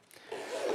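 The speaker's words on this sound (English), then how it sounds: "pack some stuff in, zip it up here" Zipper being pulled closed on the cargo compartment of a Level8 Vintage Collection suitcase, a short rising zip of about a second, close and fairly quiet, with no voices.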